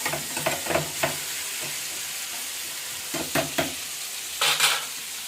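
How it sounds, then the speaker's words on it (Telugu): Pork and gongura curry bubbling and frying in a pan, with a soft steady sizzle and a few brief clusters of louder spattering and stirring scrapes near the start, middle and end; no voices. "చూసారా, బాయిల్ అవుతుందండి ఇది బాగానే."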